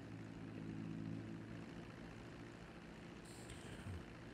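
A small propeller plane flying in GTA V drones steadily with an even engine hum, joined near the end by a brief higher tone.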